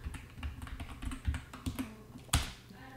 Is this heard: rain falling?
no